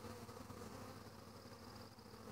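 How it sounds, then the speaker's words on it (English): Honeybees crowding a hive entrance give a steady, faint droning hum that holds evenly for the whole stretch, with no voices over it. "Those are my bees."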